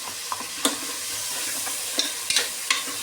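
Onions, green chilli and tomato sauté in a pan for chicken biryani, a steady soft sizzle broken by a few sharp scraping stirs of a spatula, close and fairly quiet with no talking.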